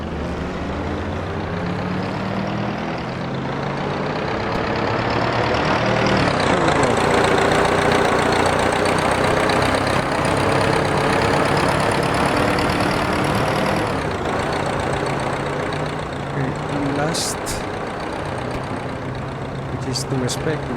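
A period racing car in Assetto Corsa at a 1950 Ulster Trophy race drones steadily close by, its engine rising and holding in pitch with a dense continuous roar; someone talks over it.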